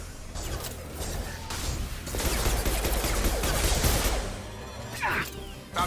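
Weapons fire in Mass Effect 2, a dense crackling fusillade that builds to a loud sustained barrage over a low rumble, then fades with a whooshing sweep near the end.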